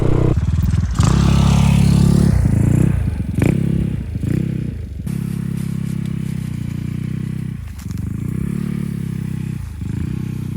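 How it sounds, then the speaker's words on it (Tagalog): A motorcycle idles and rumbles at a roadside on a mountain, with scraping and clattering as it is moved into place and parked; the engine note stays steady and close throughout. "So ipark lang natin yung motor natin dito banda."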